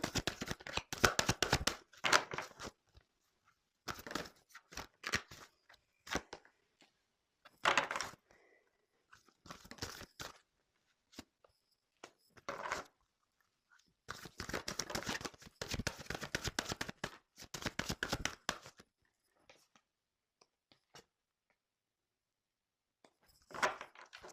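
Tarot cards are shuffled and drawn by hand, close, dry bursts of riffling and slapping card noise separated by short silent pauses.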